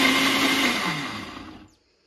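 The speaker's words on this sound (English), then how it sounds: "I put a little of the broth that was just cold, so it makes it easier to blend" A blender whirs steadily while blending tomato soup with cold broth, a loud continuous motor whine that winds down and cuts off, leaving near silence.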